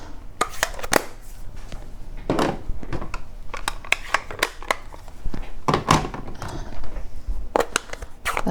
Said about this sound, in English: We're gonna stamp the 3 flowers.